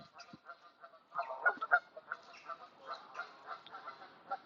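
Ducks honk and quack in a scattered run of calls that starts faint and grows busier, moderately distant, with no voices over them.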